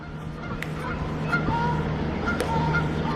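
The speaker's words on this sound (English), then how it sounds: "And then we got some geese right there." Geese honk outdoors at a moderate distance, several short nasal calls spaced irregularly over a low steady hum of background traffic.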